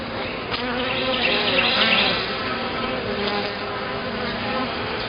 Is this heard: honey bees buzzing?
yes